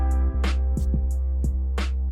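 Clean, undistorted drum loop in Soundtrap, with steady kick hits and bright snare and hi-hat strikes over a sustained low tonal bed, loud and alone.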